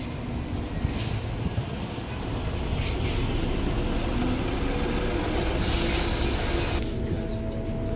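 Wright Eclipse bodied Volvo B7RLE bus with steady engine rumble and a loud hissing air brake release near the end, recorded close from inside or beside the vehicle.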